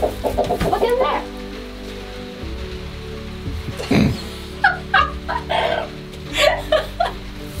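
Chickens clucking in soft, scattered bursts near a coop door, with a rain-like patter and background noise underneath.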